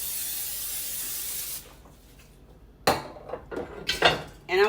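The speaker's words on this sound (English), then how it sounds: "I'm using Pam" Pam cooking spray hisses onto a baking dish in one steady close burst, followed by a short quiet gap and then clattering handling of the dish.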